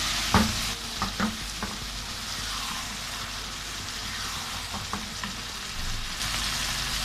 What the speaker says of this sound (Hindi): अब ये मैं थोड़ा चूल्हा तेज करके इसको भून लूँगी।